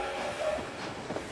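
A train rolls along a railway, a steady rumbling wagon noise with faint rhythmic rail clatter, heard alone and fairly close for a brief moment.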